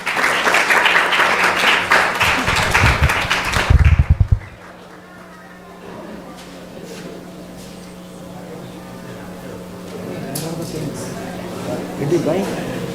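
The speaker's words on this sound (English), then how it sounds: "So please give her a big round of applause." Audience applause at an evening gathering on Vaishnava dharma, a dense burst of many hands clapping for about four seconds before stopping abruptly, followed by quieter room noise and scattered talk.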